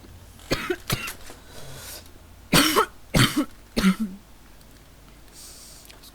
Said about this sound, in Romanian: Scuzați-mă că tușez și probabil vă bruiez.